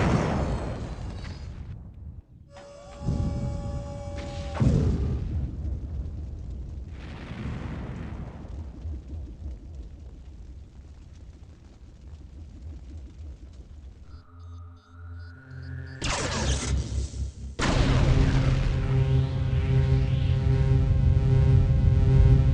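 A booming ion cannon blast strikes the Temple of Nod in a Command & Conquer game, with loud rumbling explosions, a rising synthetic whine, and a final sustained roar.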